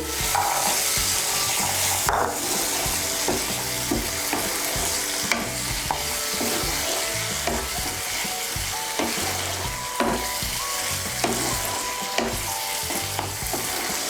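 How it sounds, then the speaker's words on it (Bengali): Green peas frying in an oily spice masala for a Bengali potato-and-pea dum, a continuous close sizzle with repeated scraping stirs against the pan throughout, no talk. "এর মধ্যে এখন আমি দিয়ে দেব মটরশুঁটি।"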